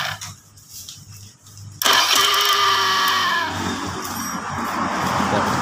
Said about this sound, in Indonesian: Ini mesin juga udah mau hidup